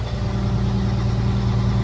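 Tractor engine running steadily during farm road work, a constant low, loud rumble with an even drone throughout, no talk over it.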